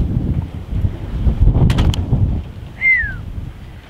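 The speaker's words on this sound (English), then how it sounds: "Wind's picking up." Outdoor wind buffets the microphone in a steady low rumble while solar panels are wired into combiner boxes, with a few brief clinks and a short bird chirp near the end.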